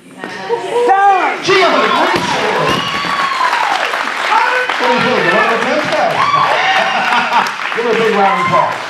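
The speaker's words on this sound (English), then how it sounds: "Give her a big round of applause." Loud crowd cheering and shouting with applause underneath, sustained and close, with excited voices rising throughout, at a 2019 women's state competition session after an athlete's third attempt.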